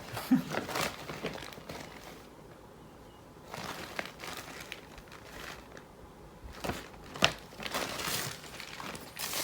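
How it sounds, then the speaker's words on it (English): Intermittent crinkling and rustling of a bag being rummaged through, close by, in several short bursts separated by quieter moments. "I apologise if you hear rustling. This is me looking for my thread in my bag"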